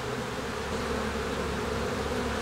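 Honeybees hum inside a hive around their laying queen in a steady, dense, unbroken drone that fills the whole stretch at close range.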